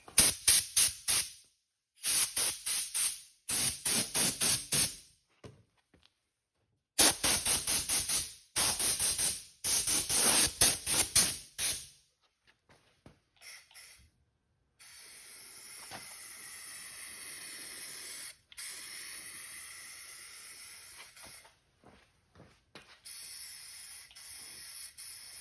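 Spray can laying thick coats of self-etching primer onto a tin bus ceiling, with loud hissing bursts separated by silences, then a longer, steadier spray pass near the end.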